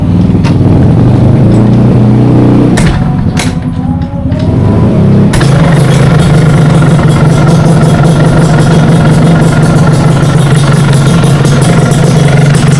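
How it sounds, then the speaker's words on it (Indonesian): A Yamaha RX-Z two-stroke carbureted motorcycle is cranked over a few times, then catches and settles into a loud, steady, close idle with a rapid buzzing putter. "Kita tes hidupin mesinnya"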